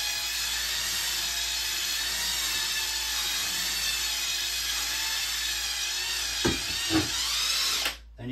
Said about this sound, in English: Drill brush over it all the way.